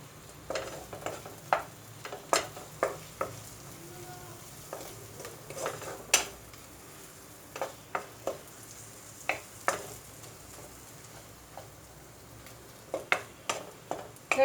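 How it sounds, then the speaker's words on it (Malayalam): Kerala egg masala roast is turned and stirred in a pan, with a soft sizzle under repeated sharp clacks of a utensil against the pan, irregular taps spread throughout, close and fairly quiet, with no voices. "എല്ലാം ഒന്ന് ഇതുപോലെ മറിച്ചിടാം. നന്നായിട്ട് മിക്സ് ചെയ്യുക."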